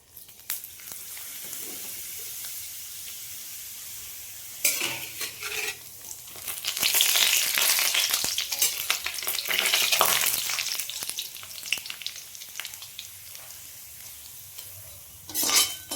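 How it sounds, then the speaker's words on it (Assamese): Papad frying in hot oil: bursts of loud crackling sizzle swelling and fading, with scraping of a utensil against the pan between them. "পাপৰ অলপ ভাজি লওঁ।"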